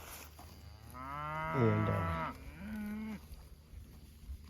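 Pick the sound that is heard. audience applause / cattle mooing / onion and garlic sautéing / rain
cattle mooing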